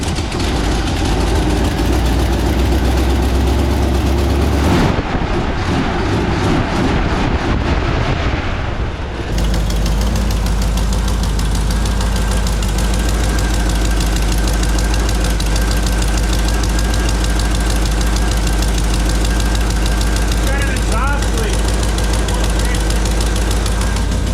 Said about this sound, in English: Now we're gonna fire her up again and let her eat a little bit and heat up